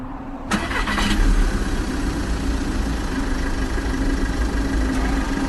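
A truck engine cranks and catches, then settles into a steady low rumble that holds as it pulls away, loud and close with no talk.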